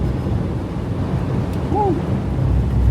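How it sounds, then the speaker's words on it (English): Heavy blizzard wind buffets a van driving through a snowstorm near Honningsvåg, a steady loud roar and rumble with low gusty thumps. "That's some heavy wind."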